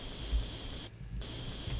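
Spray gun in the video game Tank Mechanic Simulator hisses in a steady, close burst, briefly cutting out for a moment before resuming.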